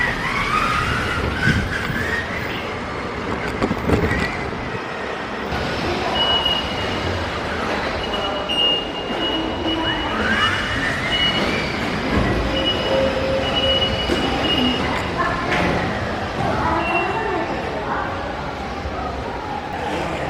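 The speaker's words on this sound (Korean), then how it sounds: "이제 공항철도를 타러 갑니다." A Korean Airport Railroad train runs in a steady, loud, continuous rumble, with wheel squeal rising and falling over about twenty seconds.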